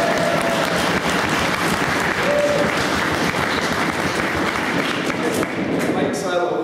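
Sustained applause from an audience at a wargaming tournament awards ceremony, steady and dense throughout, with a brief voice surfacing partway through.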